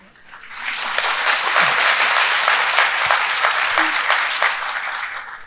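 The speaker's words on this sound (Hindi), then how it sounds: "देखो भाई ताली मत बजाओ" Clapping swells up from an audience at a devotional satsang, holds as loud, dense applause for several seconds, then cuts off, with a low voice briefly audible beneath it.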